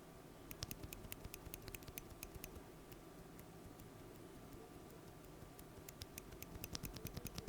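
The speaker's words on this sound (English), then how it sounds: "Now, here is a lubed and filmed Everglide Crystal Purple." Lubed and filmed Everglide Crystal Purple tactile keyboard switches are typed on close up, making a quiet, even patter of soft clacks with no talking.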